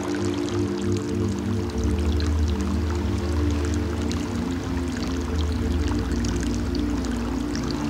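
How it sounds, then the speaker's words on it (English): Seawater draining out of rock pools on a reef as the tide goes out, a steady trickling and pouring wash that holds constant throughout, close and fairly loud. "Water draining out of these rock pools as the tide heads out."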